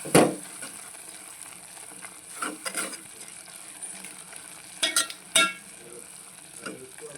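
Semiya upma (vermicelli) cooks in a frying pan under a low, steady sizzle. A spoon stirs it in a few scraping bursts, one at the start and a cluster near the end.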